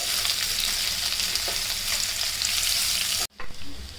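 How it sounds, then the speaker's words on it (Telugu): Onions hiss loudly in hot oil as they are stirred for a paneer curry, a continuous close sizzle that cuts off abruptly near the end, followed by a few softer scrapes. "ఆయిల్ వేడైపోయిందండి. మనం ఇప్పుడు ఉల్లిపాయలు యాడ్ చేసుకుందాం ఇందులోకి. ఒకసారి కలుపుకుందాం."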